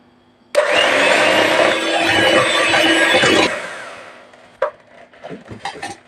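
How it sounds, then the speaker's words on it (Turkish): Electric hand mixer whipping vanilla dessert cream to a thick consistency, a loud steady whir running for about three seconds before switching off, followed by a few light knocks and clatters of bowl and utensils. "Şimdi bunu güzelce kıvam alana kadar mikserden geçireceğim."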